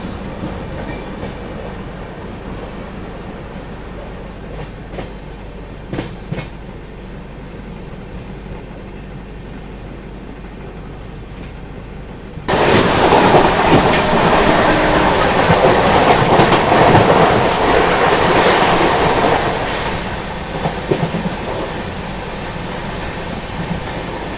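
The Chennai Express passenger train runs on rails near Kalyan station, India, with a steady rumble, growing suddenly louder and nearer midway, its wheels clattering along the track before easing slightly.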